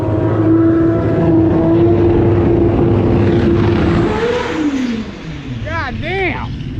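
A Toyota Supra engine roars nearby on a track, climbing in pitch through gear changes as it accelerates hard, with voices breaking in near the end.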